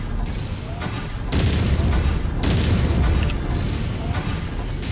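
Artillery fire and booming blasts in the MechWarrior 5: Mercenaries video game, dense rumbling explosions rolling continuously over about five seconds with heavier bursts, under game background noise.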